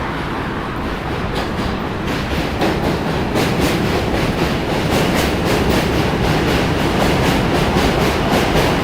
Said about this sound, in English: but because otherwise it's a nice train ride.